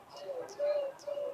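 A small child imitates a sparrow with a few short chirping, cooing calls, close and fairly soft, spaced out by brief pauses.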